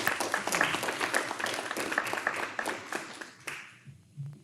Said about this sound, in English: We give a round of applause to Svea for.